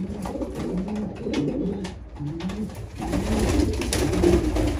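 Pigeons newly brought from İzmir coo in repeated soft, low throaty phrases, close by, with brief pauses between bursts and a fuller stretch of cooing toward the end.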